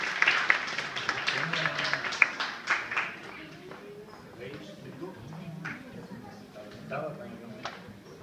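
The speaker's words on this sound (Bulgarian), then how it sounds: "Вашите аплодисменти за Василена Мартинова Янкова" An audience at a Bulgarian national folk festival in Sofia claps for a folk singer, a burst that fades to scattered claps while an announcer speaks over it.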